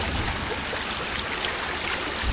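Heavy rain-season runoff streams into a pipe in West Virginia, giving a close, unbroken roar of moving water that holds level throughout.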